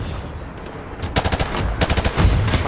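Video-game gunfire from a DMR sniper rifle in Call of Duty Modern Warfare: after a quiet start, several rapid clusters of sharp, close, loud shots follow one another in quick succession.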